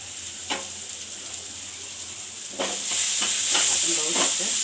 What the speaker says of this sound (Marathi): झाकण ठेवून 1-2 मिनटं कांदा मऊ पण शिजून घेऊया।